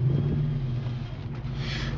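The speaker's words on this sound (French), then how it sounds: "un moteur qui tourne bien, qui ronronne bien, qui est très souple et régulier" A car engine idles smoothly and evenly up close, a steady low purr with no revving, nothing else breaking through.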